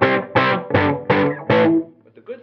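Electric guitar through a Frugal Amps Hot Rodded Plexi 50, a Marshall 50-watt Plexi-style amp, with five loud, evenly spaced crunchy chords ringing one after another, then a few quieter trailing notes fading out.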